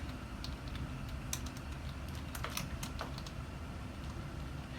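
Soft, quick clicks of keys on a computer keyboard, scattered and fairly faint, as cardiac monitoring is typed in, over a steady low hum.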